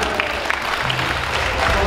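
Applause at a Siahaan clan Bona Taon New Year celebration in Bandung, a brief, steady burst of crowd clapping over loud low-end hall noise.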